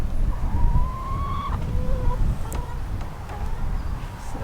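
Backyard chickens cluck in a garden beside a compost bin, short tonal clucks near and far over a steady outdoor buzz and hum.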